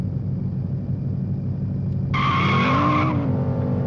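A car in a driving simulator video game reverses and skids off-road, a steady engine rumble joined midway by a loud, sustained tire squeal lasting about a second before easing back to engine drone.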